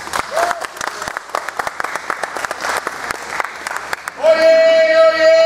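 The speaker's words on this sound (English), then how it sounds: "If I get a huge round of applause for him all by himself." A theatre audience claps for a performer, a dense burst of many hands for about four seconds, then gives way abruptly to a loud sustained tone.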